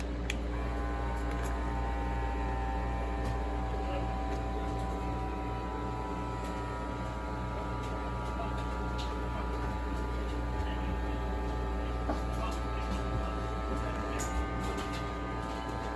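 A compact mason jar vacuum sealer hums steadily and quietly as it pumps air out of a jar, a constant low motor drone with faint buzzing and no voices.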